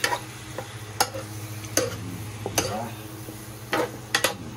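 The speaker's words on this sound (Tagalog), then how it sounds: "Mekos ulit natin. Tapos tatakluban muna natin yan para maluto siya." Food stirred in a cooking pot, with a string of sharp utensil scrapes and clinks against the pot over a steady low hum and faint sizzling.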